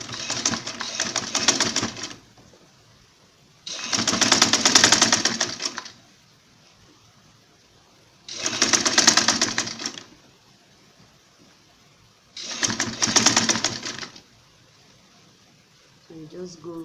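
A sewing machine runs in four bursts of about two seconds each, stitching the seam of a six-piece bustier blouse, with short quiet pauses between the runs, close and loud.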